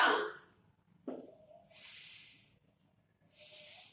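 A voice imitates a snake's hiss in a phonics lesson: two sustained breathy hisses, each about a second long, separated by a short spoken syllable, close and clear.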